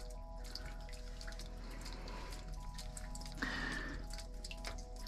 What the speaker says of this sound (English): Hear the dripping of the limestone, the water coming out?